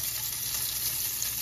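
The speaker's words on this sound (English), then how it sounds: "we've been frying our tater tots here for about 3 minutes" Tater tots fry in a pan, giving a steady, even sizzle of hot oil that holds at a constant level, close by, with no talking.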